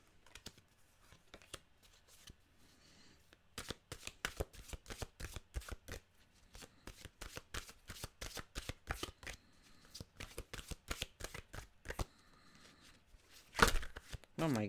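A deck of mantra cards is shuffled close by: rapid papery riffles and flicks come in dense bursts over quiet gaps, ending with a louder slap of cards near the end.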